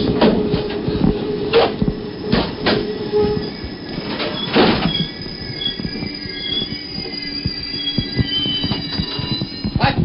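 An Amtrak train slows on its approach to Rhinecliff, its wheels squealing loudly and metallically against the rails. Clanks and rattles from the rail cars come through close by, with high tonal screeches rising and fading, and no talk.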